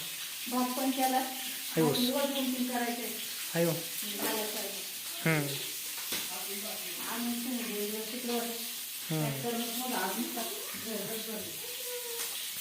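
Dried fish frying in a pan gives a soft, continuous sizzle. It sits beneath nearly constant nearby talking and is mostly masked by the voices.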